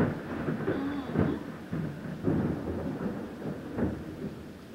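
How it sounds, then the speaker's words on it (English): Low, distant thunder from a strong thunderstorm in Cherokee, North Carolina rolls and rumbles in several soft waves, faint and drawn out, with a light wash of rain beneath. "That thunder sounds so good."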